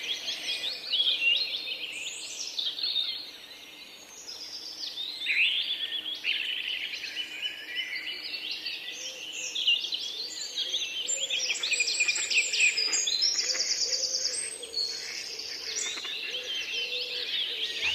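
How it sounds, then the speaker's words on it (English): Bird calls ring through misty mountain forest where Bulwer's pheasant, Lophura bulweri, lives: a steady stream of high chirps and tweets, moderately near, with faint insect buzz and a low hum beneath. "The bulwer's pheasant, Lophura bulweri, absolute lord of the altitudes"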